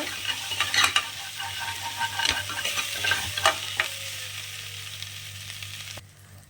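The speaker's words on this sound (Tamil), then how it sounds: "இப்போ வந்துட்டு நம்ம இஞ்சி பூண்டு பேஸ்ட் வதங்கிருச்சு" Ginger garlic paste sizzles in a pan over medium heat, with a busy frying crackle and several sharp scraping stirs before the sizzle fades and stops near the end.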